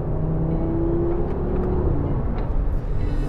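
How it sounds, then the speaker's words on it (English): A 2022 Audi RS 3 Sportback's engine burbles and rises under acceleration, a rumbling exhaust note with a climbing whine and small crackles, heard close and alone. "It still has that glorious acceleration burble."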